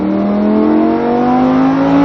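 A Lamborghini Huracan pulling hard on a race track at Mérignac, the engine's loud, steady howl rising gradually in pitch across two seconds with no voices over it.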